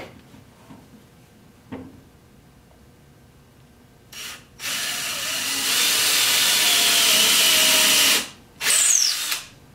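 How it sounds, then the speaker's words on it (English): A drill bores a 5/16 inch hole into a maple bowl blank for a woodworm screw before lathe turning. After a few light knocks, a loud close whirring burst runs about three seconds, then a shorter second burst. "now I'm going to drill a hole, a 5/16 hole for my 3/8 inch woodworm screw"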